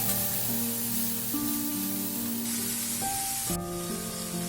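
Onions and tomatoes sauté in an iron pan for a street-style masala egg podimas, giving a steady, close sizzle under faint background music tones.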